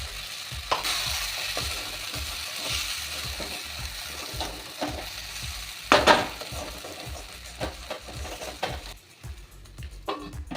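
Aubergine and peanut curry with green chilli and mustard sizzles in a pan while a spoon scrapes through it in a steady rhythm of repeated stirs, with a louder clatter near the middle.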